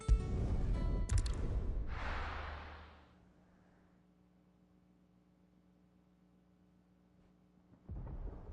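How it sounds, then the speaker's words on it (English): Rumbling thunder in the video game Final Fantasy 16: a loud, broad roar with a crack near the start that swells and fades over about three seconds. A low, faint ambient drone follows, then a new swell of noise rises near the end. "Sounds like thunder."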